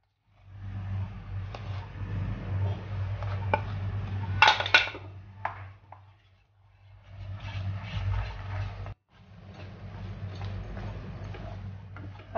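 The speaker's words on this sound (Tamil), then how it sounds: "இப்போ கொஞ்சம் கொஞ்சமாக மாவை இதில் போட்டு ஸ்லோவாக கிண்டுவோம்" Rice flour is stirred slowly into boiling salted water in a pot over a low flame, with intermittent scraping and clinks against the metal over a steady low hum, broken by a couple of brief pauses.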